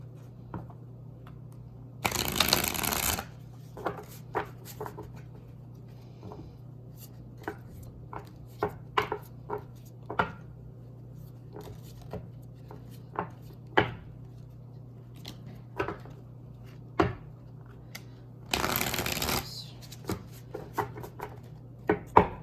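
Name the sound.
shuffling tarot and oracle cards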